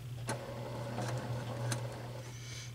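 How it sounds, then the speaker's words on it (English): A sewing machine takes a couple of stitches through quilt fabric: a steady low motor hum runs throughout, with a few soft mechanical clicks from the needle, close and fairly quiet. "I'm going to put it under the needle, under the foot, and I'm going to take about 2 stitches"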